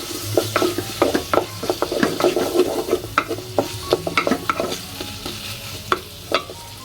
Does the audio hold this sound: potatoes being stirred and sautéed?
yes